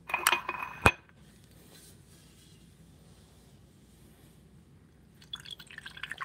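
Hard apple cider of 16% alcohol going into a glass: a few faint clinks of glass at the start, a quiet pause, then a soft liquid trickle toward the end.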